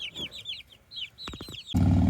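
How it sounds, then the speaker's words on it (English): Baby chicks in a backyard pen give rapid, high, downward-sliding peeps, close and clear, followed by a few lower clucks and then a burst of steady noise. "for now, that's where I put my baby chicks"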